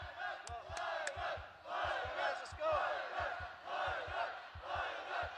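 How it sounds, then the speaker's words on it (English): A Kazakh crowd at a ONE Championship fight cheers loudly for Kairat Akhmetov, rhythmic chanting swells with steady thumping beats in waves. "Getting the Kazakh crowd showing their support loudly for Kairat AKhmetov"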